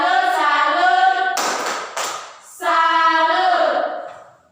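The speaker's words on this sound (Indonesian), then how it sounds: "tepuk salut untuk kita semua" Children in a classroom clap along to a rhythmic group chant, with their sung voices carrying over a brief burst of claps near the middle, loud and close.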